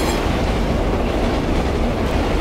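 A train rushes past in the video game Condemned: Criminal Origins, a loud, dense rumbling roar with rattling wheels that fills the whole stretch without pause.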